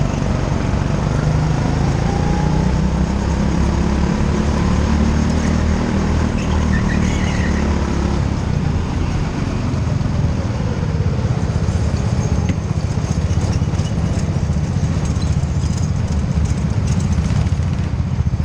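Go-kart engines race around a track in a steady, loud, continuous buzzing drone that holds for the whole stretch, with no talking.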